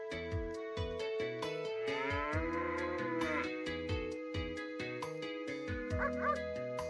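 In the video game Breath of Fire III, a dog bark sound effect repeats over a continuous synthesized background score that carries steady rhythmic bass notes.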